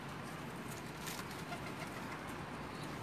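Pigeons coo softly among a pair of breeding birds in a loft, low murmuring calls buried in a steady wash of background noise, faint and somewhat distant.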